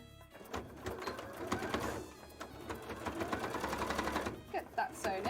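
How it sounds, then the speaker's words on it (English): A sewing machine stitches boning into tail frills, a fast steady mechanical whirr running nearly the whole time in short continuous bursts, close and fairly loud, with a brief pause midway. "get that sewn in."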